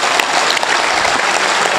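Loud, dense applause from the audience at a Hindi poetry recital, a thick uninterrupted roar of clapping sustained across the whole moment with no voice over it.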